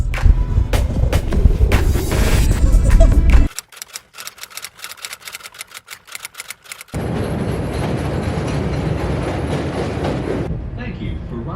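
A Chicago CTA Blue Line train rumbles and clatters loudly as it rides, shifting to rapid clickety-clack wheel beats over the rails, then back to a steady roar, with brief voices in the mix.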